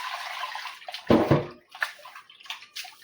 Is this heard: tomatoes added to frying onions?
no